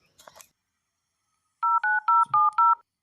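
A mobile phone keypad dials a number: a short burst of rustle, then five clear, evenly spaced DTMF beeps in quick succession, close and loud, with no talk.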